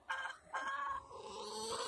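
Backyard hens cluck and squawk close by: two short calls and then a longer drawn-out squawk, fairly quiet, with no voices over them.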